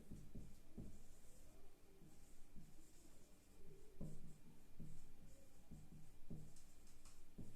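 Marker or chalk writing on a board during a physiotherapy lecture on equilibrium, with repeated short scratchy strokes and taps in an irregular rhythm, close and moderately loud, with no talk.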